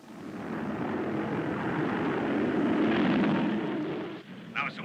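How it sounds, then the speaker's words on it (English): A jet squadron flies overhead above Marineville, a broad, loud, sustained roar that swells and then fades away, with a brief voice at the end. "Marineville Executive Jet Squadron overflying Marineville"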